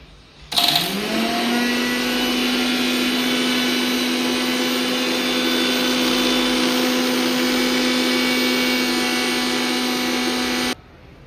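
Mixer grinder whirring as it grinds mudakathan (balloon vine) leaves for juice, switching on abruptly, holding a loud steady motor whine for about ten seconds, then cutting off; no voices.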